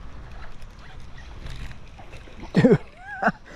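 A jackfish breaks the surface while someone fishes from a roadside spot, a sudden close splash followed by a smaller second splash against quiet outdoor background.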